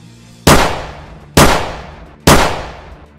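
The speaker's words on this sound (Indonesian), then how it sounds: "suara tembakan terdengar dari pistol milik Konstantin untuk mengusir sosok menaku" Three loud pistol shots fire at even intervals, each a sharp crack with a short echoing decay.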